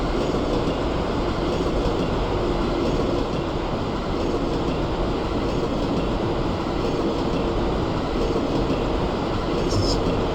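Steady, continuous rumble of an MTA R179 subway train running on the IND line in the OpenBVE railway simulator, a close, unbroken roar with faint rail clatter throughout and a brief higher noise near the end.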